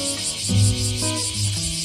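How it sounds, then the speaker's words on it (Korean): Cicadas on a front-yard fig tree drone in the early morning, a continuous shrill buzz holding steady throughout beneath lower tonal sounds. "앞마당 무화과 나무 등에 바짝 엎드려 이른 아침부터 매미가 울고 있습니다."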